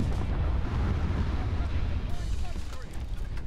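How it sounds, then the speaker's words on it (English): Missiles launch and explode during naval combat in War Thunder Mobile, aboard the Groznyy, as a dense, continuous roar of booming blasts and rumble with no clear breaks. "More missiles."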